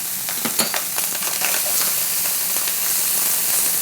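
Steady sizzling of chanterelle mushrooms frying in a pan in a restaurant kitchen, a constant hiss with a few faint crackles and pops.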